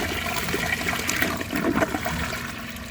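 A 2006 Vitromex Marathon II comfort height toilet flushes with a loud, close rush of water that swirls and gurgles, then eases into a trickle as the tank refills.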